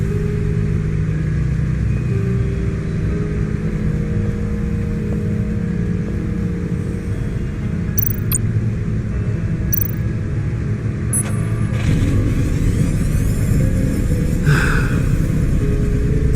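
A powerful car of over 600 horsepower revs in the video game Batman: The Enemy Within, a loud, continuous engine rumble with rising roars and a few sharp clicks over about sixteen seconds.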